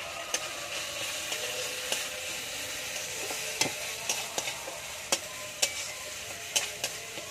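Spice masala with chilli powder sautés in a pan under a steady sizzle, punctuated by regular sharp taps and scrapes of a spatula against the pan.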